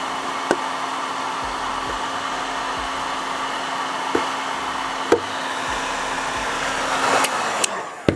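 A hot air blower heats protective film during a vehicle body installation, its steady whooshing roar running close and continuous, with a few sharp knocks and taps from handling near the end.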